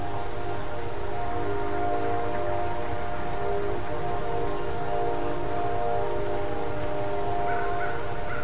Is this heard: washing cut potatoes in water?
no